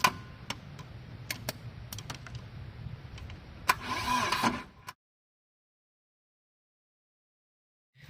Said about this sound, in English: I'm activating the starter now.